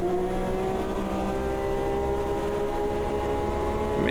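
Race car engines, including Corvettes, in the Automobilista 2 sim racing game, a steady loud droning whine held at speed down a straightaway throughout.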